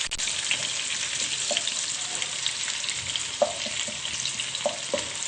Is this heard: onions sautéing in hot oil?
yes